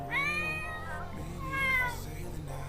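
A cat in the Sims 4 video game gives two drawn-out meows, one after another, clear and fairly loud over soft game background sound.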